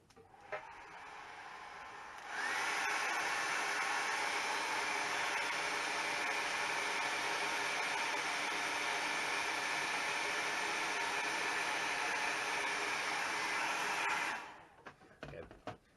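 A hair dryer drying a watercolor landscape painting blows a steady, loud whooshing hiss for about twelve seconds, then cuts off, with quiet room sound before and after.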